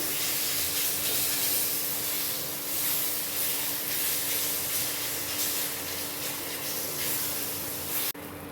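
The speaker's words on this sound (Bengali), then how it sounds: "3-4 মিনিট একটু ভেজে নেব ভালো করে।" Mashed eggplant with coriander leaves frying in a pan, a steady broad hissing sizzle that holds evenly, then ends with an abrupt shift near the close.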